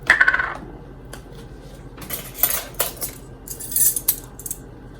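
A spoon adds a teaspoon of cinnamon to a mixing bowl of banana bread ingredients, giving a few light clinks and scrapes of metal against the bowl, with quiet rustling between and no talking.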